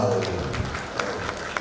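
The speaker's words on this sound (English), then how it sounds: "Rounds of applause." Audience applause crackles steadily through a short stretch, with a speaking voice over it at the start and scattered sharp claps standing out.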